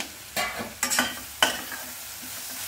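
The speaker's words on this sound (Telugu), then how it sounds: "ఉల్లిపాయ వేగింది. కొంచెం అల్లం వెల్లుల్లిపాయ పేస్ట్ వేస్తాను." Onions frying in a pan as ginger garlic paste goes in, with a few sharp scraping stir strokes over a faint steady sizzle, close and fairly quiet with no talking.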